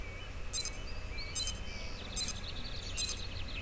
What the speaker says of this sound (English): If the sonar detects a wall, it makes a sound like this.